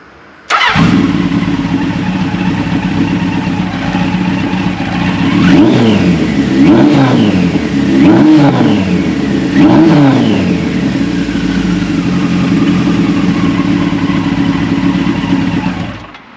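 A restored 1978 Kawasaki KZ1000 motorcycle engine starts and idles loudly close by, then revs up sharply several times in a row before settling and cutting off.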